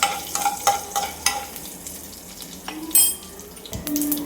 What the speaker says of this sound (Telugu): వీటన్నింటినీ ఆయిల్లో ఫ్రై చేసుకుందాము.